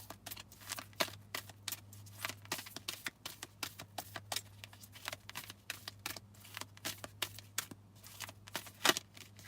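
Tarot cards are shuffled for a reading in a quiet room: a rapid, close series of soft riffling clicks and flicks continues steadily throughout.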